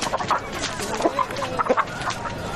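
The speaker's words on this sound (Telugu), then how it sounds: "ముందు కోడి పుంజం రెడీ చేయి" A rooster being readied for a cockfight clucks repeatedly in short, close, moderately loud bursts over a steady background murmur in a film scene.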